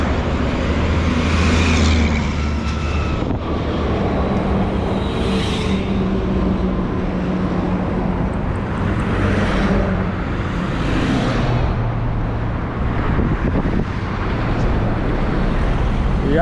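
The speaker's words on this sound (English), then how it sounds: "The road is so noisy, I did not even hear that motorbike behind me." Noisy roadside traffic on a Kenyan road between Nairobi and Machakos, with cars and motorbikes rumbling and swooshing past in close succession, loud engine drones rising and fading over continuous road noise.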